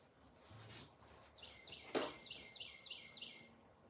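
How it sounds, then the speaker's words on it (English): Birds chirping outside an open window, a quick run of about six bright, descending tweets in steady rhythm after a couple of sharper calls, faint and somewhat distant. "I'm gonna leave it open so we can still hear the birds though."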